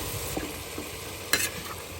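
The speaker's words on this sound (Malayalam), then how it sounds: "ഇനി നമ്മൾ ഇട്ട ബീഫ് ഇതിനകത്ത് നന്നായിട്ട് യോജിപ്പിച്ച് കൊടുക്കാം" Marinated beef is stirred into fried onions and tomatoes in a pan, with a few soft scrapes and a brief louder clatter over a quiet sizzle.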